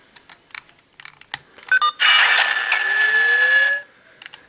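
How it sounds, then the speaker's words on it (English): CSM Faiz Phone toy from Masked Rider Faiz switching on, button clicks followed by a loud electronic activation tone with a rising synth sweep lasting about two seconds, then a few more clicks. "So switching on, we'll get the activation sound."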